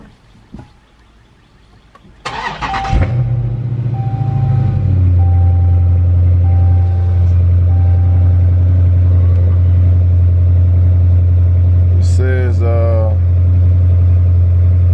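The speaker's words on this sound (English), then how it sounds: "So, just go ahead and start the car." A Dodge Charger 392 Scat Pack 6.4L V8 with a Diablo Sport tune cranks and fires up with a burst, then settles into a deep, steady idle rumble that continues; a brief voice is heard near the end.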